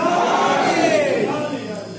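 A gathering at a Hussain sermon roars back the Nara-e-Haidari slogan in unison, a sustained, loud chorus of many voices that gradually fades.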